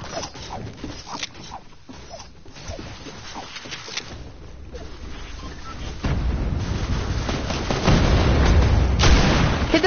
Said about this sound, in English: I'm getting shot at, and all I have is a scope pistol.